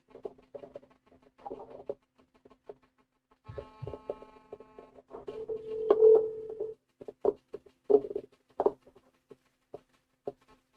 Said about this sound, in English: Second phone call attempt at 4:26 p.m.